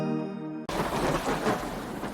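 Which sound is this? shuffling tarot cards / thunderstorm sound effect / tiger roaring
thunderstorm sound effect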